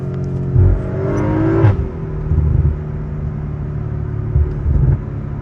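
Inside the cabin of a 500+ hp Audi RS5 on a forest road, the engine revs up, swells, then drops back to a steady low rumble, with brief surges of throttle and road noise close around.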